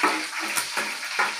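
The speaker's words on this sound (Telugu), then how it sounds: "కరివేపాకు వేసాను. వేగిన తర్వాత" Curry leaves frying in hot oil in a pan, a steady bright sizzle with a few crackling surges, close and fairly loud, with no voices.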